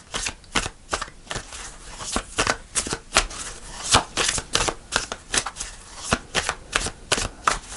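Tarot cards are shuffled and pulled from the deck in quick, crisp riffling bursts and soft slaps, close up and fairly quiet, with irregular pauses between flurries.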